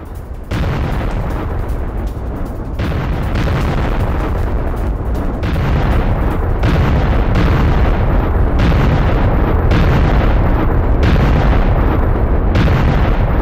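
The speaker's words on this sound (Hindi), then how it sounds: "यूक्रेन ने मल्टी लॉन्च रॉकेट सिस्टम से हमले किए हैं।" Continuous barrage of rocket strikes from a multiple launch rocket system, a loud sustained rumble of overlapping booms and bursts with no pause, dense and heavy throughout.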